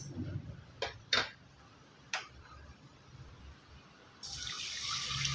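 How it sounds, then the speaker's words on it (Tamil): Roasted moong dal is washed in water inside a pressure cooker: a few light clinks and taps give way to a steady rush of running water near the end, faint and close, with no voices. "அந்த குக்கர்லேயே போட்டு கழுவிட்டு"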